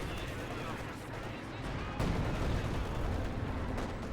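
KV-2 heavy tank shelling in a Company of Heroes 2 battle, heavy booming artillery-like fire under a constant rumble of gunfire, with a louder thump around the midpoint and commentary voices over the top.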